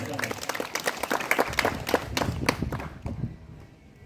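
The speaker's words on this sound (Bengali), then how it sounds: "একটু জোরে হাততালি হোক দেবদাদার জন্য" An audience at a community committee event in West Bengal gives a short burst of applause for a guest. The clapping is moderate and somewhat distant, mixed with voices, and it fades out near the end.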